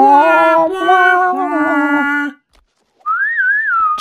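A person whistles a wavering melody for about two seconds, pauses briefly, then whistles a higher sustained tune with sliding pitch, close and fairly loud.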